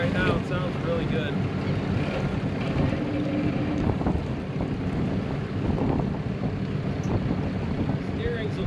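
A boat engine idles at a steady low rumble around 2,000 RPM, mixed with wind buffeting the microphone and the wash of water around the hull.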